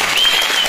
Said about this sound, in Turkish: Bir alkış gelsin Sabiha Alakuşu'na